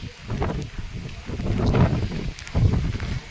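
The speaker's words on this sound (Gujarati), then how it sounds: "પવન પણ બહુ નીકળ્યો છે" Strong wind during a rainstorm gusting hard against the microphone, a rough roaring rumble that surges and eases in waves, with no voices.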